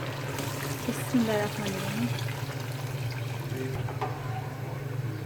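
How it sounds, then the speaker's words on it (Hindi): Water pours steadily into a pot for chana pulao, a continuous rushing trickle under a constant low kitchen hum, with a voice briefly heard over it. "अब इसमें मैं पानी ऐड करूँगी"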